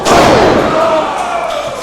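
A wrestler slams down onto the ring mat at a Reality Of Wrestling tag match, one heavy loud thud opening the moment, followed by crowd noise and a commentator's excited voice.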